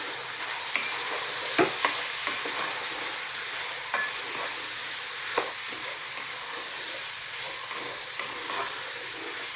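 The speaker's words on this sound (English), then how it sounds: "I'm going to cook this again for about another 3 to 4 minutes, stirring all the time" Camel stew frying in a pan with turmeric and cumin powder over heat above medium, giving a steady close sizzle broken by occasional light scrapes and clicks from constant stirring.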